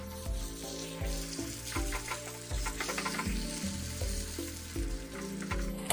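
Fish masala frying in oil in a pan while being stirred, a continuous crackling sizzle with rhythmic scraping strokes of the spoon repeating about once a second, close and steady.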